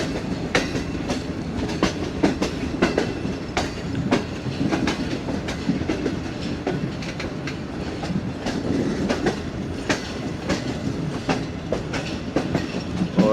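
Pak Business Express train running on rails between Lahore and Karachi, steady rolling rumble with repeated clickety-clack wheel beats over rail joints, heard from inside the carriage, loud and continuous.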